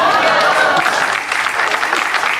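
Audience at a poetry gathering applauding a poet's couplet, loud sustained clapping with crowd murmurs and a voice talking over it.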